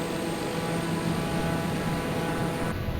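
A steady aircraft engine drone fills Microsoft Flight Simulator during a flight into a hurricane, continuous and loud, with no talk.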